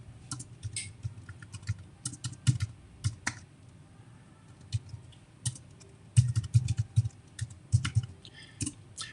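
Bursts of clicky computer keyboard typing, fairly close and moderately loud, in uneven quick runs with short pauses between, without voices.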